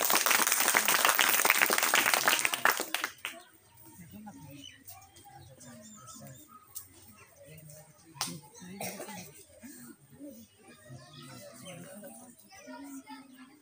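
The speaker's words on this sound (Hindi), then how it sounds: "इनके लिए जोरदार तालियां हो जाए" Students and guests at a Children's Day event at a coaching institute in Niyamat Nagar, Nalanda, give a quiz winner a loud burst of applause for about three seconds. It then drops to scattered claps, children's chatter and murmuring voices.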